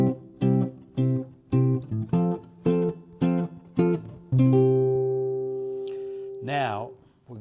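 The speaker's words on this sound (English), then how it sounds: "So our original 1-4-1 progression sounds like this." A 1-4-1 chord progression played as a series of rhythmic strummed or struck chords, ending on a long ringing final chord, close and clear with a brief noise at the end.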